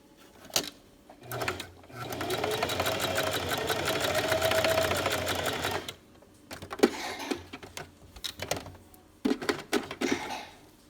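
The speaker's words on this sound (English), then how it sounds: "now I'm going to fold this over and top stitch it" A home sewing machine top stitches through several folded layers of baby sleeper fabric in one steady, close whirring run of about four seconds, followed by softer handling clicks and brief bursts as the fabric is adjusted.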